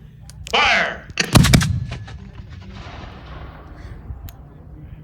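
Civil War mortars fire at a Gettysburg re-enactment outdoors: a loud booming blast followed by a quick cluster of sharp reports, then fading rumble and distant crackling.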